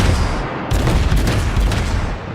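Heavy naval gunfire from a ship in World of Warships, with a loud booming report that sets off a rumbling, sustained roar, close and dominant with no talk over it.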